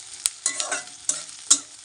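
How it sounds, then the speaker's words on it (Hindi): Chowmein with vegetables stir-fries in a pan, with a soft sizzle punctuated by several quick scraping strokes of a spoon, close and fairly loud, no one talking. "इसमें ये फ्राई होने में दो मिनट लगाते हैं"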